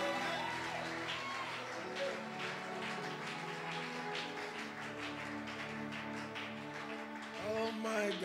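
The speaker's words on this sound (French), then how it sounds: "Acclamez les patrons des patrons." A church congregation in a lively worship service claps and cheers loudly and continuously, a dense crowd roar with music-like tones running throughout, swelling again near the end.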